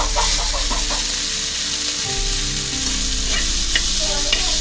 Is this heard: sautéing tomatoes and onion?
yes